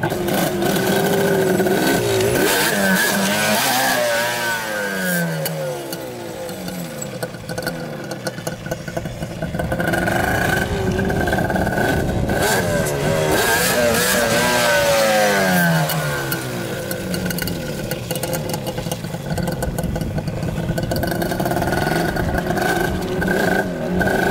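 A Yamaha Banshee two-stroke quad revs hard in first gear through a wheelie, loud and close, its pitch climbing and falling in repeated sweeps for the full stretch with no talk over it.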